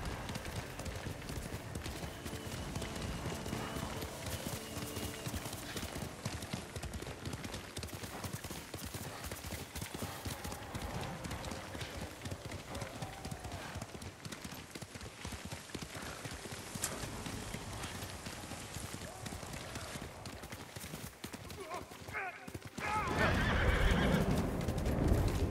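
Hooves clip-clop steadily through a horse's gallop in Ghost of Tsushima, with a whinny rising above the rhythmic footfalls and a louder burst of activity near the end.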